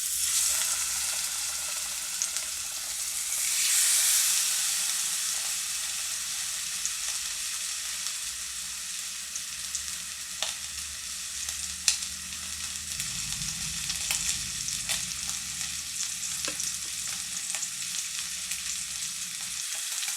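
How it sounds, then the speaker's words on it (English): Pork pieces searing in a frying pan make a steady, loud, hissing sizzle that runs throughout, with occasional small pops and a brief surge of spatter early on, and no one speaks. "Now we're going to add 2 pieces at a time. This allows the pan to not be overcrowded, so that way they'll get a nice sear."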